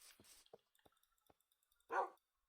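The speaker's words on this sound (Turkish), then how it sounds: "Aha köpek." A dog barks once in the game Minecraft, a short, fairly loud yelp near the end, after faint clicks and brief rustling earlier on.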